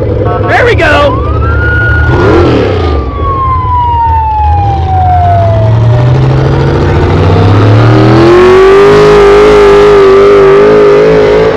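A real fire truck's mechanical siren, once used by a fire chief, winds down in a long falling wail and then spins back up to a loud, sustained howl at close range. Crowd noise and talk are audible at the start.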